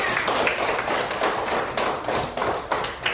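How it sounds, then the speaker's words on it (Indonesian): Children in an Islamic lesson clap their hands together for praise, a close run of quick, fairly rhythmic claps with soft thuddy taps, moderately loud and without talk. "Ya bagus, tepuk tangan."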